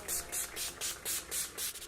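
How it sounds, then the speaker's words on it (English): Urban Decay All Night setting spray mists out in about seven quick, evenly spaced hissing pumps, close and fairly soft. "Then I'm gonna take the Urban Decay All Night Spray."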